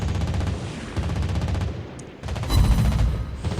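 Anti-aircraft guns on the USS Black Kansas, a premium battleship in World of Warships Blitz, fire loud rapid automatic bursts that sound close. The rattling barrage runs almost continuously and swells in the final second.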